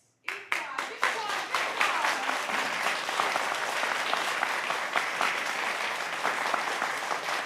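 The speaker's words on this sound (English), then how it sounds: "Big applause," A studio audience in a concert hall bursts into applause after a live Eybler Quartet performance, starting abruptly from silence, then building into steady, full clapping that stays loud and even to the end.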